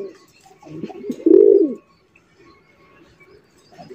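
A large pigeon, a high-quality show breed from a prized collection, gives a harsh, raspy throaty coo, with softer calls early and one loud, rough burst in the middle before quiet.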